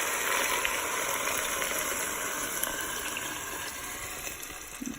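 Six cups of chicken stock poured from a container into a soup pot for garlic soup, a steady close liquid gush lasting several seconds and tapering slightly near the end, with no talk over it.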